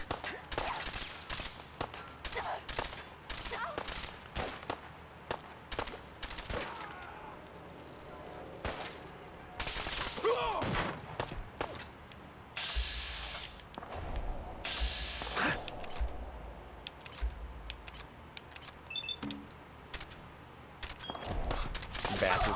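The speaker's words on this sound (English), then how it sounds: "When in doubt, just shoot the ground at their feet." Gunshots ring out repeatedly in Fallout, as dense sharp cracks and bursts of rapid fire over a long stretch, with a quieter pause near the middle and talk now and then.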